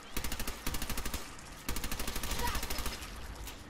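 Automatic gunfire from a disliked gun in the video game Fallout 4, sounding as rapid bursts of shots in quick rhythm, with a short pause before a second, longer volley, loud and close.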